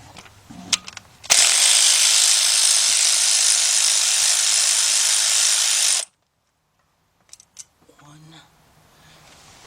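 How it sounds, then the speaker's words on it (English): A ratchet spins steadily and loudly for about five seconds, removing 10mm bolts from the timing cover of a Chrysler Sebring, then stops abruptly, leaving near silence with a few faint clicks and handling noises. "Let me get my ratchet right here."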